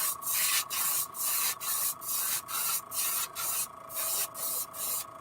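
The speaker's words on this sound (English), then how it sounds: "Want to see how it sprays, what it looks like." A sample of new paint is sprayed onto a fishing bait in about ten short, regular hissing bursts, each roughly half a second long, close and fairly loud.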